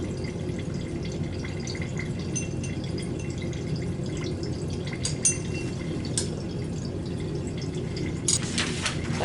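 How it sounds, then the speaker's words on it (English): Water draining from a 10 ml pipette into a glass vessel holding a 1-butanol and acetic acid mixture in a lab, a soft steady trickle with faint drips and small clinks, no talking. "I've just added my first 10 milliliter portion of water."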